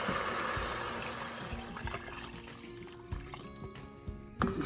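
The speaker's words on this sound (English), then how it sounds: "I'm going to pour the broth in here." Broth poured into a soup pot for beef and barley soup with chuck roast, a continuous splashing liquid stream that fades and thins out toward the end, ending with a few clunks.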